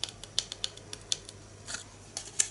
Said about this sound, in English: just cut up in a straight line to the score line, and then like we did before, just cut out a wedge